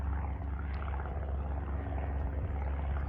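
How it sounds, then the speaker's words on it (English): A distant light aircraft engine drones steadily overhead near a flying club, a faint continuous hum with no other sounds. "hear the airplanes? That's because we're right by the Flying Club."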